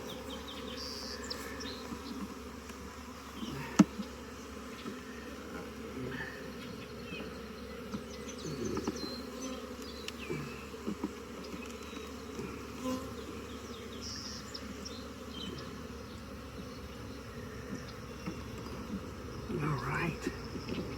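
Honey bees buzz steadily around a swarmed beehive during a hive split, a dense continuous drone with individual bees passing close, a brief sharp knock near the start and occasional faint handling noises.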